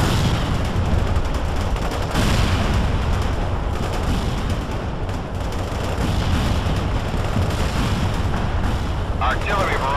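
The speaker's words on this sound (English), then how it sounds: "Heavy artillery barrage inbound." Heavy artillery barrage in the strategy game World in Conflict: continuous dense roar of overlapping explosions and gunfire, loud and sustained across the whole stretch, with a voice faintly under the din.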